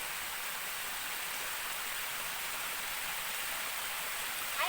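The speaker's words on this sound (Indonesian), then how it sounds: "saya menemukan di sini ada air terjun kecil" A small mountain waterfall at Pasir Jati gives a steady, even rush of falling water. The hiss holds at one level throughout with no voices.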